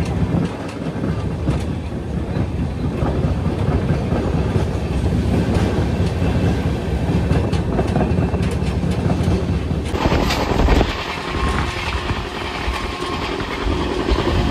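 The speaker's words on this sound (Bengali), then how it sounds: "চন্দনপুর আউটারের উপর দিয়ে ট্রেন যাচ্ছে" The Shantiniketan Express passenger train runs over the tracks near Chandanpur on the way to Bardhaman. A loud, continuous rumble and wheel clatter is heard from on board and shifts in tone partway through.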